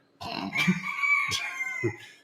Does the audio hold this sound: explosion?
no